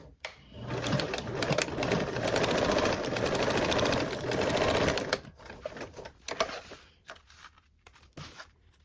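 A sewing machine runs a 3/8 seam, a fast continuous buzzing stitch for about five seconds, then a few short bursts and clicks as the fabric is adjusted, close and alone.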